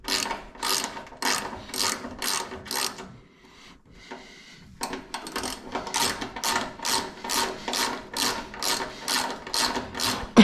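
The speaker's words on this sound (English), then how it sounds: "when I get done with tapping these holes out, we can mount the AirDog right to the frame" A tap cuts threads into holes in a 2nd Gen Cummins truck frame with repeated ratcheting clicks and rasps in a steady rhythm. The sound stops for about a second, then the turning resumes up close.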